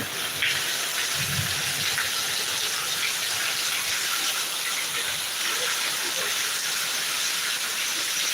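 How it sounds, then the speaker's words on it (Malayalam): Heavy summer rain pours down in a dense, unbroken hiss driven by strong wind, loud and close, with no voices. "അടിപൊളി മഴ ഓ നല്ല കാറ്റുണ്ട് ഇവിടെ നല്ല കാറ്റുണ്ട്"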